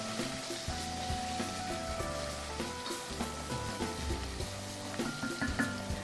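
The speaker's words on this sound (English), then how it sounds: "I'm going to give a stir" Seasoned food, dusted with a Mediterranean blend and a garlic-herb mix, is stirred in a hot pan. It gives a steady close sizzle with scraping and clinking through it, and soft background music runs underneath.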